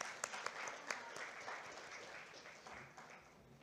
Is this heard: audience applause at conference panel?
yes